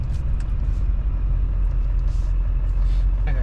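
A Duramax diesel engine in a Chevrolet Silverado pickup idles after a cold start, a loud, steady low rumble with a continuous throbbing drone and no talk.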